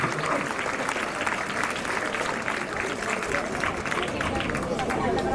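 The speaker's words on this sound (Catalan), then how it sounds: "Salvador Fa, un fort aplaudiment." A festival crowd at a Santa Tecla presentation in Tarragona gives a speaker a strong round of applause, with dense, loud clapping that carries on throughout and a murmur of voices mixed in.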